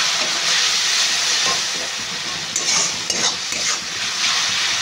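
Chilli powder and spices frying in a pan give a steady, loud, broad hiss of sizzling steam, with faint stirring and scraping sounds on top and no voices.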